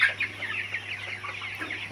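Tiger chickens on a rooftop farm cluck in a continuous, busy chorus, many birds calling over one another close by, with a faint steady hum underneath.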